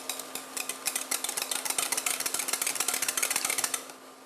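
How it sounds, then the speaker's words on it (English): Whisking yogurt in a bowl: a rapid, steady run of light clinking and scraping strokes from a whisk against the bowl, close and fairly loud, with no talking, easing off at the end. "Meanwhile, we need to whisk our actual yogurt."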